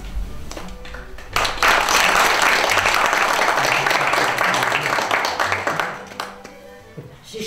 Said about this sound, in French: C'est Charles Baudelaire que vous applaudissez